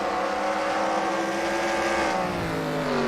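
Race cars at Devils Bowl Speedway in Texas during the Truetimber Camo 100, loud engines roaring continuously with rising and falling pitch as the pack passes close by.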